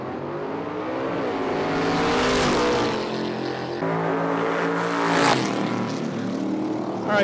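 Engines of a Camaro and a center-steer Chevette roar loudly at a dragstrip, a sustained throaty rumble swelling and revving as the cars launch and pull away, with no talk over it.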